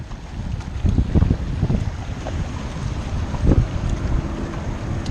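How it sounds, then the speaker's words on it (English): Bixpy J-1 outboard motor on a Viking Profish Reload kayak, running at setting 5 with light paddle assist, makes a steady low hum under wind buffeting and splashing water, with a few louder swells of paddle strokes. "So with me in 5th gear or number 5 setting, with me just kind of leisurely stroking a little bit with the paddle"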